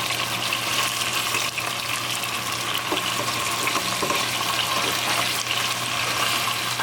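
Chicken pieces fry in a pan for brown stew chicken, giving a constant close sizzle and crackle with faint occasional pops and no talking.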